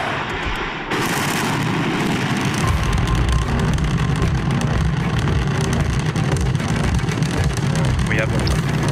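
SpaceX Starship Flight 8 launching on 7 March 2025 produces a loud, continuous rumbling roar. It kicks in sharply after about a second and holds steady and dense to the end.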